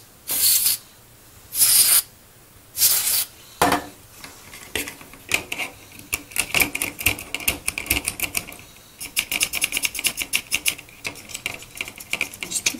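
Contact cleaner hisses from an aerosol can in several short bursts, sprayed into the switches of an Atari 2600 console, followed by a long run of small plastic clicks and ticks as the switches are worked back and forth.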